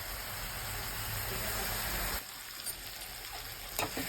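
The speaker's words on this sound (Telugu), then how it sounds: "ఇది బాగా ఉల్లిపాయలు బాగా ఫ్రై అవ్వాలి" Onions frying in a pan for a taro and tamarind stew, a steady dense sizzle that drops to a quieter hiss midway, with a few soft clinks near the end.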